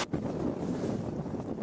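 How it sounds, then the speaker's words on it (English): Gusty wind on a South Downs Way hillside buffets loudly and close, a continuous rumbling rush with no voices. "It's so windy."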